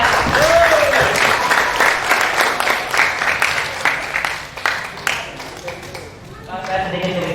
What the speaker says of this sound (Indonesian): Silakan berdiri Bapak, tepuk tangannya ya.